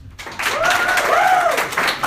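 A comedy-club audience applauds at a stand-up show, answering a question by clapping; steady, fairly loud applause from the crowd lasts about two seconds, with a voice briefly audible over it.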